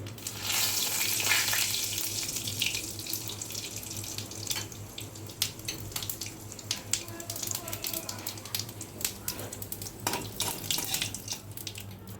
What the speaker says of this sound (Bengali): এখানে ফোড়নের জন্য আমি শুকনো লঙ্কা, তেজপাতা আর জিরে নিয়েছি। আমি এখন তেলে দিয়ে দিচ্ছি 3টে একসাথে।